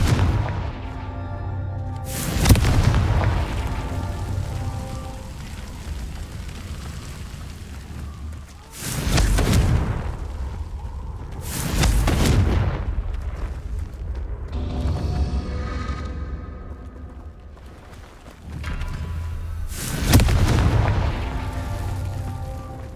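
Confringo blasting-spell explosions from Hogwarts Legacy: four heavy, booming blasts spaced several seconds apart, each a loud, deep burst that rolls off into a lingering rumble over a low ambient bed.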